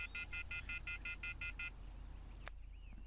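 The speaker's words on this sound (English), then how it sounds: "I took out my cell phone and dialed the first number from my contact list." A mobile phone is dialed in the video game Everlasting Summer: eight quick, evenly spaced keypad tones over a low hum, followed by a short pause and a single faint click.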